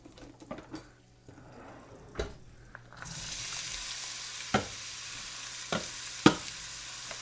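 A utensil scrapes and knocks in a pan of chicken paprikash ingredients. A few sharp clacks come first, then a continuous sizzle rises midway, with more loud stirring knocks over the frying.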